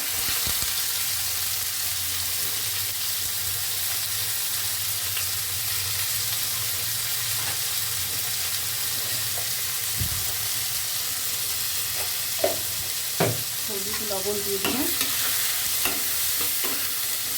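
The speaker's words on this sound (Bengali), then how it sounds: "একটাই রেসিপি বাকি আছে করলা বেগুন ভাজা" Loud, continuous sizzle of bitter gourd and eggplant frying in a pan, stirred throughout, with a few clanks near the end and a brief spoken remark.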